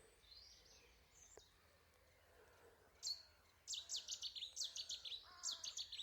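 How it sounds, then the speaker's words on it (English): A Cetti's warbler bursts into a loud, rapid series of sharp, repeated notes after a quieter stretch of faint distant chirps along a riverbank. "it was that of a Chetty's warbler."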